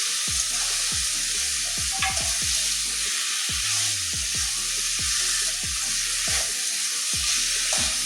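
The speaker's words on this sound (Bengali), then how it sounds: "এবারে সিদ্ধ করে রাখা লতিটা দিয়ে দিচ্ছি।" Boiled taro stolons sautéed with spice paste in a pan, a loud steady sizzle with a rhythmic series of scraping stirs and utensil knocks, close up with no talking.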